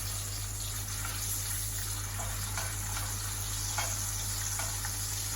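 Plant-based steaks frying in a pan give a steady, close sizzle with a constant hiss and a few soft clicks and stirring sounds, no voices.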